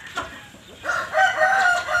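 Chickens cluck and a rooster crows at a rural outdoor spot, the calls loud and close, a short cluck first, then a longer crowing call that carries on to the end.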